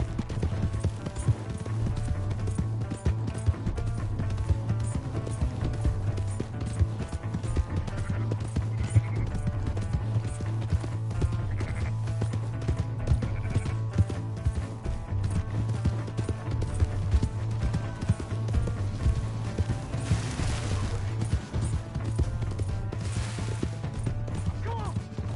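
Hooves clip-clop in a fast, steady galloping rhythm in the video game Red Dead Redemption 2, over a low droning background, with occasional faint voices and game sounds mixed in.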